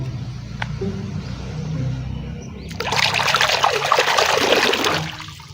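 Clean water pours and splashes as a toy is washed, first a soft trickle, then a louder, steady stream that fades out, close and without talk.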